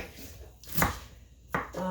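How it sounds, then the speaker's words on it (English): A sharp knife chops fresh vegetables on a cutting board for stir-fried clear noodles, with a couple of distinct, crisp strikes over quiet kitchen background. "I love this chopping and slicing and cutting."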